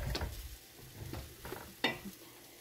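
A spoon stirs a pot of seaweed soup with perilla powder and glutinous rice dough flakes, giving a few soft scraping strokes and light clinks up close against a faint sizzle-like background.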